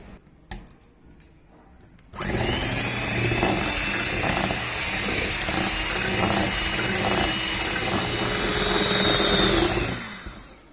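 A hand mixer beats dalgona coffee mixture in a bowl, a steady loud whirring with rattling that starts abruptly after a couple of seconds of quiet and runs continuously to the end.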